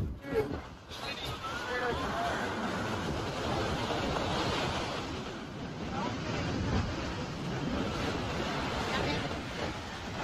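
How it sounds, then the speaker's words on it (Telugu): Sea waves surging up the shore at Anjuna Beach, Goa, a continuous loud wash of surf with wind buffeting the microphone and faint background chatter throughout. "వాటర్ కూడా చాలా పైకి వస్తున్నాయి."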